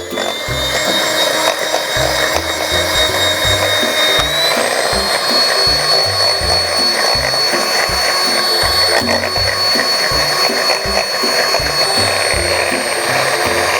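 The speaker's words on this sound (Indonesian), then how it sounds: "baru kita mixer lagi" An electric hand mixer whips dalgona coffee to a froth, a loud continuous motor whine with rhythmic low thumps as the beaters knock against the bowl.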